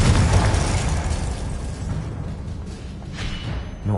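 Blasting spell explosion in the Hogwarts Legacy video game on PS5, a broad loud boom that decays into rumbling debris, with another burst swelling near the end.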